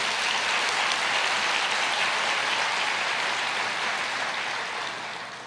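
A church congregation applauds steadily and loudly, a dense continuous wash of clapping that holds for several seconds and then begins to fade slightly at the end.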